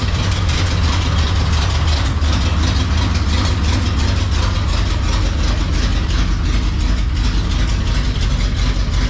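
A 6.2 liter diesel engine in a square-body truck idles steadily and loudly up close, a continuous deep rumbling clatter with no pauses and no talking.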